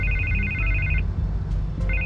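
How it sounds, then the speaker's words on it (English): A telephone rings in Batman: The Telltale Series, a repeated electronic trill heard in two bursts over a low game ambience, with no speech. "I can't get the phone to stop ringing."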